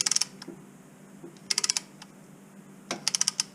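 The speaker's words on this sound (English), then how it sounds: "here's the brake caliper, and it's ratchet style." A ratchet-style brake caliper spreader tool is cranked slowly on a double-piston caliper, giving three quick sets of sharp metallic clicks with quiet pauses between them.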